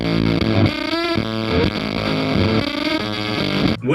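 A vintage Kay tulip-shaped electric guitar chugs loud, heavily distorted chords in a driving rhythm through an effects unit, close and alone with no talking.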